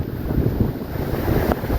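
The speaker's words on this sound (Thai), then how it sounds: "เพิ่นว่าทั้งลมทั้งหนาว" Strong wind gusting steadily outdoors with heavy, continuous roaring noise buffeting close to the microphone, no voices.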